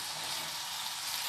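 Soya chunks stir-fried with spice powders in a pan over a low simmer flame, giving a steady, soft, even sizzle with a faint hiss and no talk.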